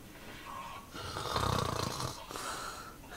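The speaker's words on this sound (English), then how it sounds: "Somebody's snoring loud there." A single long, loud snore rises and falls over a few seconds, close by, with a quiet background and no talking.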